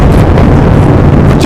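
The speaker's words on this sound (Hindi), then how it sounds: "अचानक हवेली के अंदर एक जोरदार धमाका हुआ" A loud explosion erupts inside a mansion as a deep, booming roar that fills the whole short stretch at high level, with no voices.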